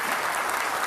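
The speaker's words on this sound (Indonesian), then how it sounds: "kita beri tepuk tangan untuk Pak Basuki Cahayapurnama." Studio audience at a televised Jakarta gubernatorial debate gives a brief burst of applause, a dense hiss of many hands clapping together, moderately quiet and heard alone.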